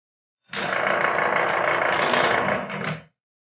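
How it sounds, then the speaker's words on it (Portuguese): An automatic sliding gate motor, set up with no ramp and no electronic brake, runs as a loud steady mechanical grinding drone for about two and a half seconds, then cuts off abruptly into silence. "E agora vamos testar o motor."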